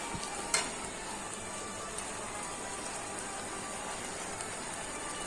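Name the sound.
meat frying in pan with spices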